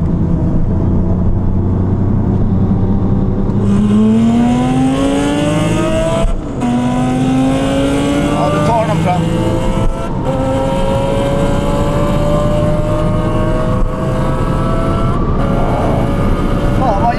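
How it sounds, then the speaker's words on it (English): A Porsche 911 Turbo 997 and a Lamborghini Gallardo SE, manual cars, accelerate hard from 50 to 80 km/h, engines climbing in pitch through loud gear-by-gear pulls with brief shift breaks. "Porsche 911 Turbo 997 versus Gallardo SE from 50"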